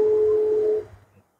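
A sonometer wire vibrates at resonance during a school physics lab experiment on tension, giving a clear, steady pure tone for under a second that then stops abruptly, leaving a faint low hum that soon fades.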